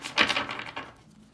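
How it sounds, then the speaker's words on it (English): A short riffle of cards, a quick burst of papery flutters that fades out after about a second, fairly quiet and with no voices. "Now let me shuffle the deck"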